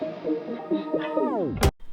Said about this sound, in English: the synthesizer with a small fade out, which I am using as a tape stop effect, the slowdown effect